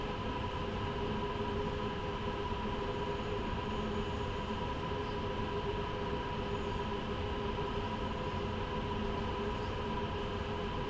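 A BR 187 locomotive in Train Sim World 2 runs at steady speed, giving a continuous dense rumble with a constant tonal hum over it, unbroken from start to finish.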